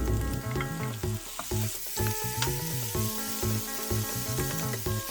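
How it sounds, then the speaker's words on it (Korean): Chopped kimchi stir-fries in an oiled pan with green onion, ham and onion, giving a steady close sizzle with scraping stirs, while a bed of music plays underneath. "김치도 가위로 착착 잘게 썰어 볶아줄게요."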